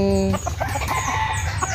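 A rooster gives a short crow, then chickens cluck in quick, scattered bursts close by in a backyard farm.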